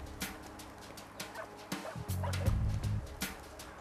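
Several dogs barking and yipping in short bursts, with a whimper and a cluster of louder barks near the middle, moderately close and not very loud.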